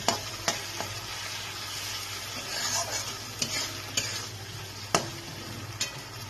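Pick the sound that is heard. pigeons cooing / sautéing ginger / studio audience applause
sautéing ginger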